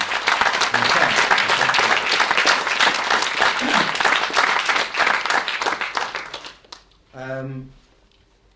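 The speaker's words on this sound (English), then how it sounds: "ask for a round of applause for all the speakers and the conveners and the chairs." Conference audience at an art and work session applauds for the speakers, conveners and chairs: sustained, dense clapping that fades out near the end, followed by a brief voice.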